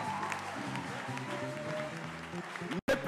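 A church congregation claps together during a Sunday service, a steady wash of applause under a voice and music, cut by a brief gap near the end.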